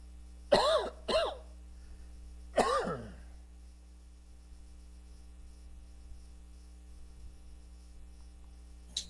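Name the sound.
coughing and throat clearing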